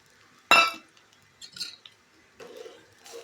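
A chutney mixture being stirred in a pan: a sharp clink of utensil against the pan opens, followed by several softer scraping and squishing strokes spaced out over a few seconds.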